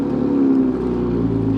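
A 2026 BMW M340i engine starting by key fob remote start settles into a steady, close idle rumble that holds throughout with no talking.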